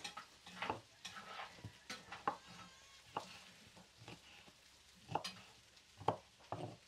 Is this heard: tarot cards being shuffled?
no